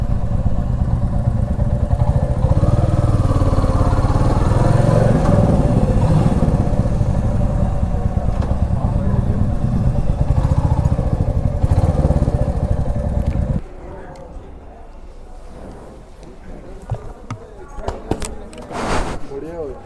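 A motorcycle engine roars loudly and continuously up close for most of the stretch, then cuts away to quieter rustling and handling noises.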